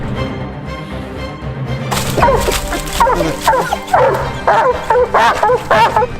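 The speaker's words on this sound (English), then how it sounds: "I got my old dog Molly here, my puppy May." Coonhounds at the start of a Kentucky coon hunt give loud, close barks, yips and whimpers. A low hum leads in, then excited barking erupts after about two seconds and comes in repeated bursts.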